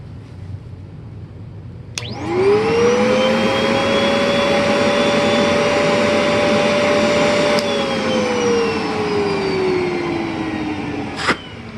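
ProTeam SCM-1282 vacuum cleaner switching on and running at full power during an airflow suction test, a loud steady motor whine with a rising then slowly falling tone, ending with a sharp click.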